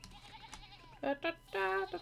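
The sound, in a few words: sheep bleating in the video game Pentiment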